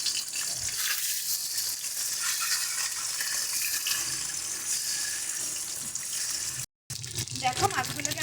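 Pabda fish fried in hot oil, flipped on both sides until red-brown, giving a steady close hiss and sizzle that runs almost throughout, with a brief drop to silence near the end before resuming.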